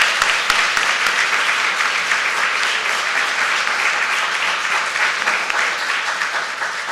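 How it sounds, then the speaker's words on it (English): Audience at a League of Women Voters candidates forum applauding all the candidates, loud sustained clapping from a packed room forming a dense even roar that fades slightly toward the end. "let's give a round of applause for all of the candidates"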